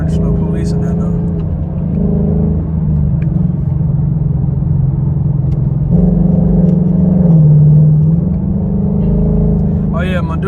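A 2019 Ford Mustang engine running and revving, a loud, deep rumble that rises and falls in pitch, with voices talking over it.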